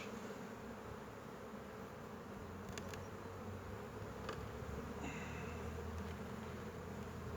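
Many bees buzz around a beehive while a brood area is being set up, a dense, continuous hum that stays steady and fairly faint throughout, with no voices.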